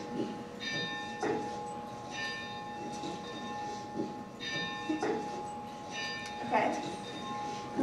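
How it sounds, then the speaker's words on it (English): Bells ring out in repeated clanging strikes, several in a slow irregular pattern, their tones ringing on and fading between hits. "can we hear bells"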